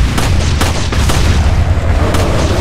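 Pistol shots in Resident Evil 4 (2005), several sharp broadband cracks spaced irregularly over a constant low rumbling game background, loud and close.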